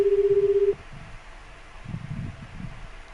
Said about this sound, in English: read a number off of one, and made a phone call